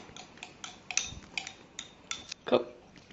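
A red lipstick mixture with food coloring being stirred in a small container, giving a quick series of light, close ticks and clinks from the utensil at a steady rhythm, with a sharper knock near the end.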